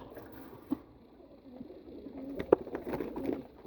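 A pigeon coos softly in a few low, rounded calls close by, with faint shuffling and light background noise in between.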